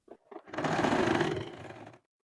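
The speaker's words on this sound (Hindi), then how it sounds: "इस मार्किंग के ऊपर ही मैं अब सिलाई लगा के यहाँ तक ले जाऊंगी।" A sewing machine stitches along a marked line on old saree fabric being made into an Anarkali kurti, a steady close whirring run of about a second and a half after a couple of short starts.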